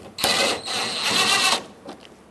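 Bolts being threaded into a headlight assembly on a 2003-2009 Dodge Ram 2500 HD, a close, brief burst of scraping, whirring mechanical noise lasting about a second and a half before fading to quiet.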